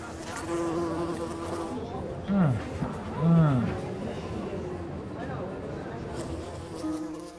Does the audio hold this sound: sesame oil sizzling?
no